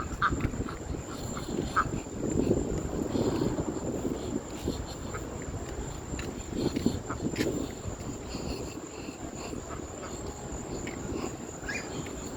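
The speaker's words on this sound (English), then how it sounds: "Ducks coming from the bathroom." Ducks quacking from a bathroom, a steady stream of rapid, soft quacks at moderate distance, continuous throughout with a faint high insect-like whine in the background.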